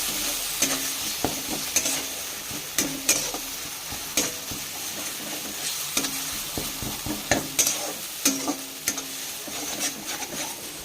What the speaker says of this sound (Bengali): আবার কড়াইতে আমি তেল দিয়েছি, ওটা ভাজবো বলে দিয়ে দিয়েছি তেলে। আমি একটু ভালো করে নেড়ে নেব।